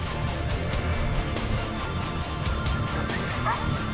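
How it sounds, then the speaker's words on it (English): A search dog barks repeatedly in a grassy field to alert its handler, a run of sharp yips and barks at moderate distance over steady background noise. "The dog will keep barking until the handler arrives."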